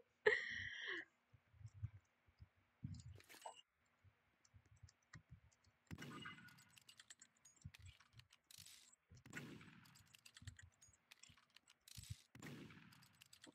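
Gunfire in the Roblox game Murder Mystery 2 comes as a few sharp, fairly faint cracks spaced a couple of seconds apart, mixed with scattered clicks and quiet game noise.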